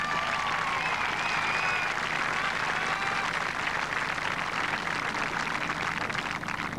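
Steady, dense applause from a large crowd for the England men's coxless four rowing crew at the 1986 Commonwealth Games final, loud and continuous throughout with no break.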